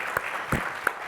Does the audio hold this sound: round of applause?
yes